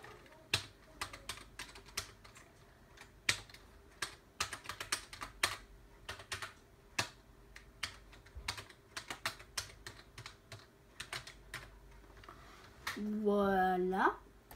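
A password is typed on a computer keyboard in sparse, irregular key clicks, close and fairly quiet. A short voice enters near the end.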